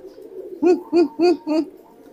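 A male pigeon in courtship display gives four evenly spaced, throaty coos close by, each a short rounded pulse, preceded by a soft low murmur.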